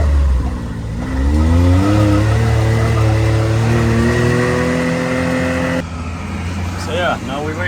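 A dune buggy engine revs up and holds a loud, rising whine before dropping off, with a voice talking over the din.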